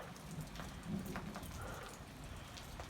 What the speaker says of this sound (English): There's a little light rain right now.